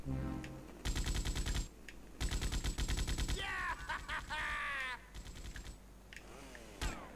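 Gunfire in GTA Liberty City Stories, rapid automatic bursts of shots in several strings, loud and close, with other game effects and sounds between the bursts.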